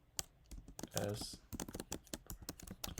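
Rapid clicking of computer keyboard keys while writing code, a steady stream of close, crisp taps running throughout with someone talking over them.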